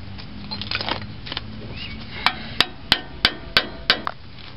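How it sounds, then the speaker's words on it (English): Six sharp metallic hammer strikes on a screwdriver splitting a ball joint on a Toyota truck ring out at a steady rhythm, close and loud, after some softer clanks and handling noise. "You can stick a screwdriver in there and then hammer on it and it'll split them apart."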